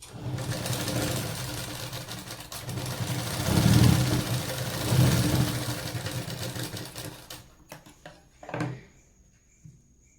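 A sewing machine runs in bursts while stitching tucks on a size 36 blouse, loud and close, with the motor rising and falling before trailing off into a few short clicks and handling sounds near the end.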